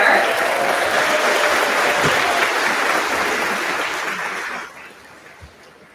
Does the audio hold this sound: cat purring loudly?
no